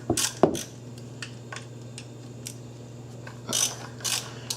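Ratchet wrench with an 8mm socket working timing belt cover bolts on a Ford Escape engine, giving several short bursts of clicking, loud at the start and again near the end, with quieter stretches between.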